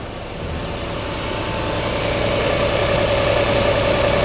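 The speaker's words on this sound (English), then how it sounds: "as you can hear, the engine is running" A Honda Odyssey engine idles up close after a rough-running fault was fixed, with a steady low rumble and a faint hum, growing slightly louder then holding even.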